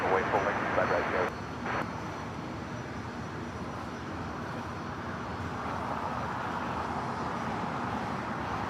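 A small propeller airplane at LAX drones steadily in the middle distance, with a brief louder burst at the start, while a person speaks over the engine noise.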